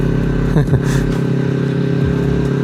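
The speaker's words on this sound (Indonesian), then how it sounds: "saya lagi suka banget nih suara pakai knalpot PDK ini" A Kawasaki Z250 motorcycle with an aftermarket PDK racing exhaust idles and burbles nearby with a deep, throaty exhaust note, punctuated by a quick rev and a clattering blip.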